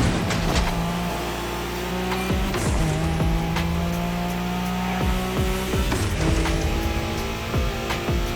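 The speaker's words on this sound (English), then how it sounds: "Wide drift for style or tight drift for speed." A car drifting in The Crew Motorfest, the engine revving hard and loud through several slides, with sharp tire squeals rising and falling, sustained and close with no talking.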